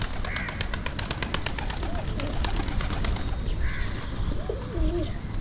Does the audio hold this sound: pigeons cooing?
yes